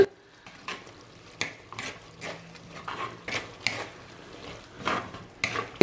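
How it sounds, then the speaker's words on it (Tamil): Chicken hearts fry in a pan while a spoon scrapes and stirs them in repeated bursts, each stir bringing a rush of sizzle and metallic clatter over a quieter frying hiss, with no talking. "இன்னொரு 9 நிமிஷம் நல்லா பொரிய விடுவோம்."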